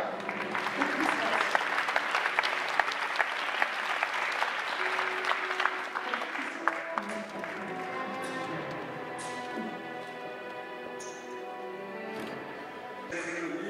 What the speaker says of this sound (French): Bravo, aussi, applaudissez-la